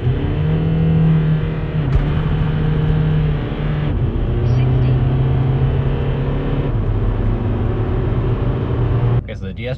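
A VW common-rail TDI car on a stage two tune accelerating under load, its engine drone holding steady and stepping up in pitch across gear changes, loud and continuous.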